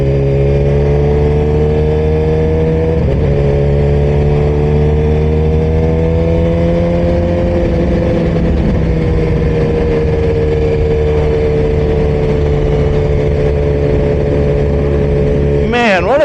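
A Suzuki GSX-R 1000 motorcycle being ridden, its engine droning loudly and steadily with gentle rises and falls in pitch, ending in a sharp rev at the close.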